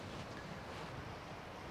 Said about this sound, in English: It's windy and raining.